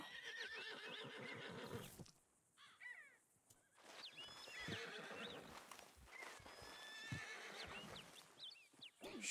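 A Kentucky mountain horse whinnies loudly with a high, shaky neigh, alongside hoof clip-clops and crow-like caws in an outdoor Red Dead Redemption 2 soundscape.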